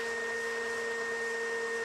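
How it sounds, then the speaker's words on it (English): A vacuum cleaner running steadily, a continuous motor drone with strong sustained tones and an even level throughout, heard alone. "unless your neighbour is vacuuming your bedroom"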